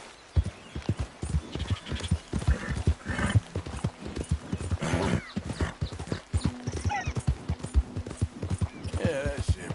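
Hooves of a horse in Red Dead Redemption 2 beat a rapid, steady clip-clop close up, with an occasional snort or whinny mixed into the continuous rhythm.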